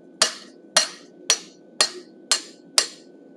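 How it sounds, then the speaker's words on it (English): Six evenly spaced hammer blows ring out on a curved chisel as it cuts the mouth into a forged bison head, each strike sharp, close and metallic, with a short decay and no voices. "Then I've got my curved chisel. I'm going to cut the mouth, placing it right against the beard."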